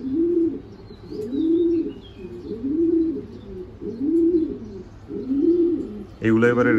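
Racing pigeons cooing steadily in a regular rhythm of five or six rolling coos, close and clear, with a faint higher chirp early on and a sudden bright burst at the very end.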